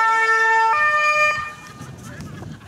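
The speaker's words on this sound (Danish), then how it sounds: "Er du bange for brandbiler?" A fire engine siren wails loudly with a steady tone that changes pitch, then fades under engine noise near the end.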